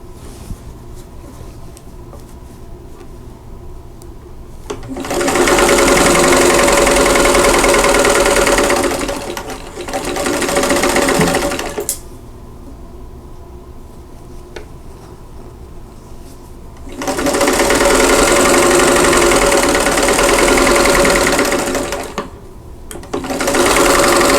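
A sewing machine stitching a quilt block seam on an hourglass block runs in two long, loud, steady bursts, with a shorter run between them and quiet gaps where the fabric is repositioned.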